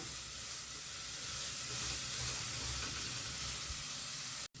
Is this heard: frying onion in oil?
yes